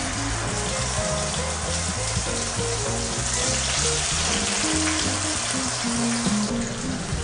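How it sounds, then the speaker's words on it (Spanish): Fish fillets frying in plenty of hot olive oil in a pan, a steady close sizzle and crackle with a faint tonal hum underneath, no voices. "Vamos a freír."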